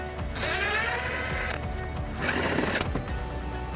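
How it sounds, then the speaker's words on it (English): A ratchet with a 10mm socket backs screws out during a trailer hitch installation on a 2020 Toyota Highlander, giving two close bursts of rapid mechanical clicking separated by a short pause. "And we'll use a 10mm socket to remove the 3 screws."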